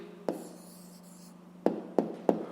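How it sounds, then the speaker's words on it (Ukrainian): A pen writes an answer on paper, giving a few soft scratches followed by three sharp taps near the end, close and quiet. "Ну а тепер записуємо відповідь."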